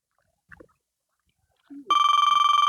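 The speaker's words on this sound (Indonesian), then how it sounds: "Telepon si Udina cing." A telephone starts ringing near the end, a steady loud electronic ring tone after a few faint handling sounds in an otherwise quiet room.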